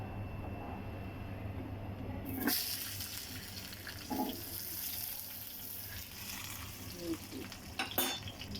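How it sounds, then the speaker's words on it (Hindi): Chicken kebabs go into a hot pan on a home stove and begin frying, a soft steady sizzle with a few clinks and knocks of utensils over a low kitchen hum. "तो अब डालेंगे चिकन कबाब"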